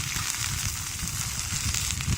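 Chicken legs fry over an outdoor campfire, giving a continuous hissing sizzle with faint crackles over a steady low rumble, fairly quiet throughout.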